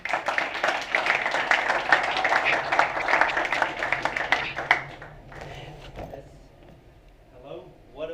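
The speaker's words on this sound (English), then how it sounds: "A round of applause, please" Audience applause greets a startup founder taking the stage to pitch at a defence tech hangout, a dense, steady clapping that fades out after about five seconds before a voice begins.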